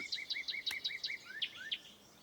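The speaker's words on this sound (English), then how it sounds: "A cardinal. Do you see it anywhere? He's a bright red bird." A cartoon cardinal sings a fast series of clear, whistled two-part notes, repeated rhythmically and fairly close, with a brief click partway through.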